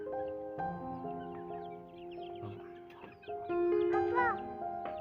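Chickens cluck and call near a bamboo house, with several overlapping birds giving short clucks and drawn-out calls that grow louder toward the end, while people talk faintly.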